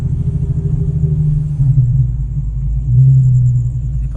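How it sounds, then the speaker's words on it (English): An Infiniti Q50 with an exhaust leak gives a steady, low, throaty rumble that swells slightly midway, close by and with no talking. "You guys can hear that exhaust leak. Sick ass exhaust leak."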